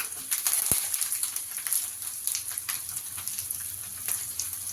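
Garlic sizzles and crackles steadily in hot oil in a pan, a close, crisp frying hiss with small pops scattered throughout.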